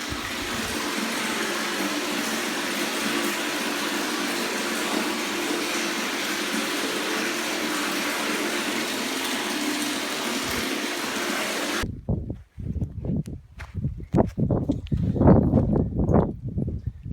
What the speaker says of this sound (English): there's water going into the tank here from the rain roof